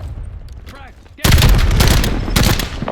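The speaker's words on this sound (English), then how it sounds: "Enemy sniper shooting." Loud automatic gunfire in the Black Ops 7 multiplayer shooter game erupts after a second of quieter background, a dense sustained burst of rapid shots close up.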